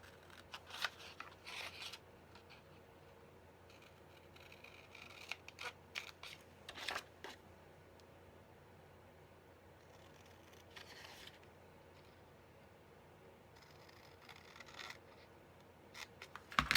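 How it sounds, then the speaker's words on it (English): Scissors cut paper for a junk journal pocket in quiet bursts of crisp snipping and slicing, several short cuts separated by pauses, close and fairly faint. "Then you're going to cut out these little portions right here."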